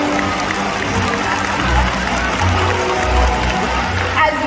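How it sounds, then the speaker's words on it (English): An audience at a SeaWorld orca show in San Antonio claps in a steady, dense wash of applause, with some crowd noise mixed in. "Go ahead and give yourselves a great big round of applause."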